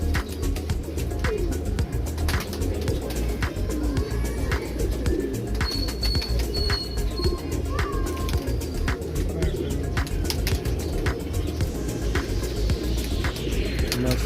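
Neel Dumba Teddy cross pigeons keep up a continuous low cooing in a loft, overlapping calls with occasional thin chirps and a brief rustle, no speech.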